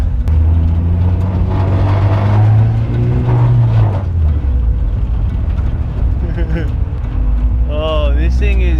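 A Volkswagen bus fitted with a Toyota engine revs loudly and climbs in pitch as it accelerates, a close, rising drone heard from inside the vehicle with a person talking over it.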